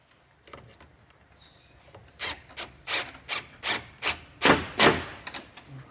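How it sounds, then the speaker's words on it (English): Screws are driven into pre-drilled holes while a wooden quad bin store is assembled, heard as a series of about ten rasping, scraping strokes that grow louder and more insistent, close by, with no talk. "we'll just put a couple of screws in just for this demo"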